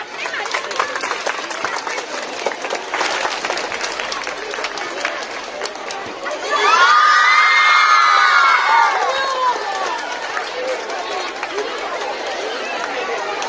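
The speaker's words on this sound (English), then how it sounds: "Huge round of applause for Madhu Miss." At a school Teacher's Day celebration, a crowd of students claps, chatters and cheers, with children's voices rising into a louder burst of shouting and cheering midway before settling back into busy chatter.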